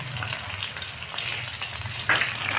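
Panch phoron spices and a bay leaf fry in hot oil for an Assamese tomato dish, giving a steady, close sizzle with a brief louder crackle near the end.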